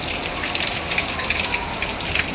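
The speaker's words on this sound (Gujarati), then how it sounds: "હા પાણીના ધારોડા હો પણ જોતો ખરા જળ બંબાકાર વરસાદ" Heavy rain with a windstorm pours down in Surat with a dense, hissing wash of gushing water, steady and loud, with scattered drips and splashes and no talking.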